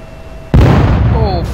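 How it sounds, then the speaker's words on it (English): A bomb goes off in a flight combat video game: quiet engine hum, then a sudden loud, close blast that rumbles and fades, with a short descending whistle near the end. "I blew myself up with a bomb."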